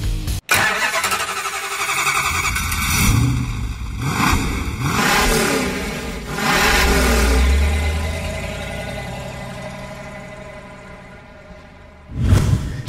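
A 1971 Plymouth Barracuda engine starts with a sharp catch, then revs repeatedly in loud, throaty surges that settle toward idle before a final burst, close and clear with no talk.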